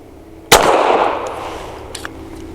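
A single close, loud 9mm shot from a Canik METE SF pistol, a sharp crack with a long echoing decay, followed by a few faint clicks.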